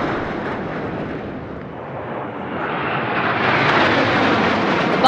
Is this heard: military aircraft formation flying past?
yes